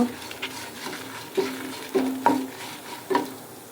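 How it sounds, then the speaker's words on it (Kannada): Long and short chillies with coriander fry gently in a pan, a soft sizzle punctuated by several sharp clinks and scrapes of a spoon stirring against the metal. "ಇದನ್ನಿಗೆ ಸ್ವಲ್ಪ ಫ್ರೈ ಮಾಡುವ."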